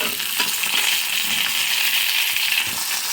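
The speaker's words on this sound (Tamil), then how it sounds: "ஃப்ரை பண்ணிக்கலாங்க. வெங்காயம் நல்லா வதங்கி வரைக்கும்." Onion frying in a pan with curry leaves, a steady loud sizzle with faint scraping and clinks running throughout, close and without any talking.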